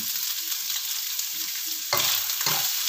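Pre-steamed sausage fries in a pan with a steady, close sizzle, broken by a couple of louder spattering bursts near the end.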